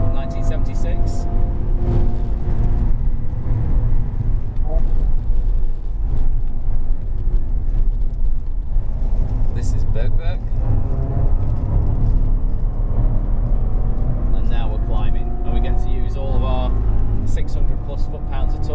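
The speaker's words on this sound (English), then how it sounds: "This car's running 575 horsepower." A Jaguar XJR575 with 575 horsepower drives hot laps of the Nürburgring, its engine a loud, steady drone with shifting pitch throughout, and a voice talking over it.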